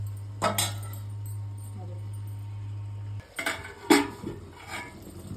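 Cooked food is mixed in a pan with a few metallic clinks and scrapes of a spoon, an isolated strike first, then a cluster of stirring knocks after a steady hum cuts out.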